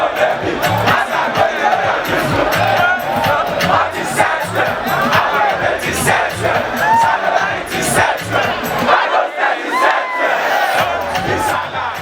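A large outdoor crowd at a show cheering and shouting as a state governor dances on stage, dense continuous roar with whoops and yells, loud and sustained.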